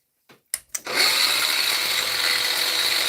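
A grinder spins up after a few short clicks and clunks, then runs steadily with a loud, bright, continuous whine and broadband rush in a workshop, with no talking.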